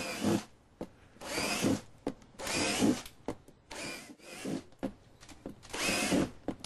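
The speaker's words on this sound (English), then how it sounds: "I'm using a 3/8 inch drill bit to make these drill holes." A power drill with a 3/8 inch bit bores holes into a plastic container, five whirring bursts of drilling separated by short pauses, close and fairly loud.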